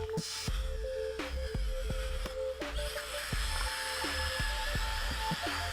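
The motors of a Dromida XL 370 quadcopter drone whine steadily near by, with their pitch stepping up and down in repeated short shifts as the craft is started and throttled.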